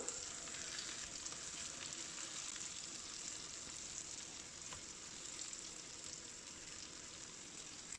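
Steady close-up sizzling of tomatoes and peppers frying in a pan, a continuous crackling hiss with occasional pops, no voices.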